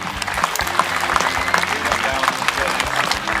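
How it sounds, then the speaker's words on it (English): Steady crowd applause at a truck and tractor pull, clapping throughout, fairly loud and continuous, mixed with cheering and background voices. "He said he'd get a round of applause"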